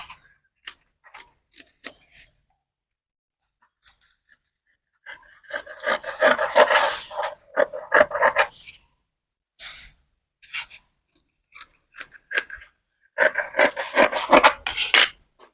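Scissors cut through blouse fabric in short rasping bursts, a few isolated snips followed by two longer stretches of rapid scratchy cutting, close and fairly quiet, with no voices.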